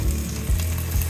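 Bacon on parchment paper sizzles inside a Ninja air fryer, a close, steady frying crackle with a low fan hum, no talking.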